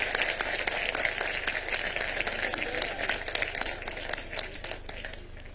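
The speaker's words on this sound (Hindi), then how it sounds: "अगर पसंद आ गया ताली वाली बजा के बता सकते हो।" An audience at a job placement day event breaks into steady applause, many hands clapping continuously at a moderate distance, slowly fading toward the end.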